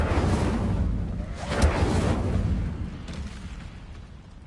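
A fire spell cast in Hogwarts Legacy bursts with a loud rushing boom near the start, swells to a sharp peak, then rolls off into a fading fiery whoosh and rumble.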